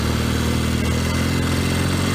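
A 1964 Royal Enfield Interceptor Mk1 motorcycle running in first gear, its engine a loud, steady, close drone with a continuous rumbling note throughout.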